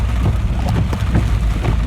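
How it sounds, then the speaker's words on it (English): Heavy rain pours steadily at close range, a dense, constant hiss with scattered heavier drops, no voices. "Oh no, the rain's so loud."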